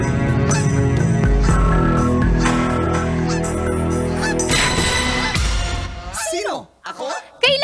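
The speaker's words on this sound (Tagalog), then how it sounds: "Inis na ako sa gansa na ito." A goose kept as a house guard honks a few times near the end, sharp and close, after a stretch of dense music and people talking.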